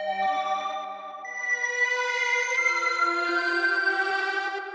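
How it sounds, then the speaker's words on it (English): An Omnisphere synth tone run through a multi-head echo effect: a sustained, bright harmonic drone with layered repeats smeared into one continuous, evenly loud sound, heard alone. "Now we could change kind of the number of echoes by doing multi-head."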